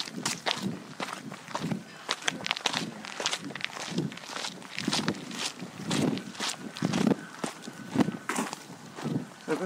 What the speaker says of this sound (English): Stomp on it.